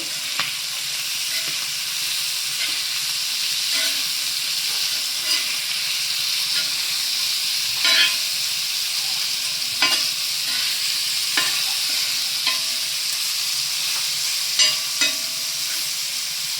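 Chicken sukka, wedding style, sizzles steadily in a pan for about seventeen seconds, with occasional scraping stirs at irregular intervals over the constant frying hiss.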